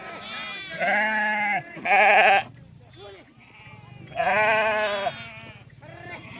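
A flock of sheep bleating in several loud, drawn-out calls close by, separated by short gaps, with someone talking quietly underneath.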